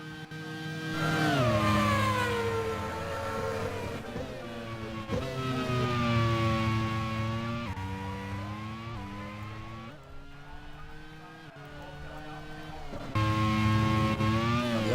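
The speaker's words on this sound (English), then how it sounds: "Bortolotti locks up again into the last braking zone of the circuit, the Curva de Parga." Race cars lapping the Buenos Aires circuit in a Grand Prix racing video game, with loud, continuous high-revving engine whine rising and falling through gear changes and braking, close and dominant, with no talk.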